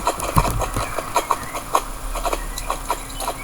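A horse trotting in a riding arena: steady, fairly close hoofbeats in a quick even rhythm, with faint background noise and no talk.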